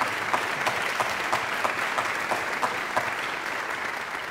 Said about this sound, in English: join me in a round of applause, not for you, we'll have plenty of time to applaud you, but to your family, your friends